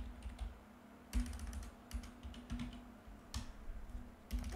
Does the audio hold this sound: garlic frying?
no